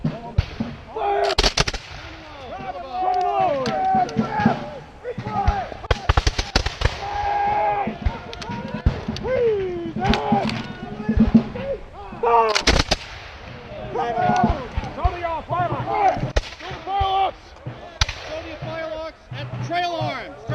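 Revolutionary War reenactors fire musket volleys with flintlock firelocks outdoors, sharp loud cracks in several separate bursts, between shouted drill commands and talk from the line.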